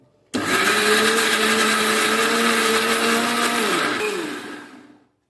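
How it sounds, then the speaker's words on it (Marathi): Kitchen mixer grinder blending a spice paste with coriander leaves, starting abruptly into a loud steady motor whine that holds for several seconds, then winds down and fades as it stops. "त्याला मी आता बारीक असं पेस्ट करून घेणार त्याची मिक्सरमध्ये फिरून घेणार आहे"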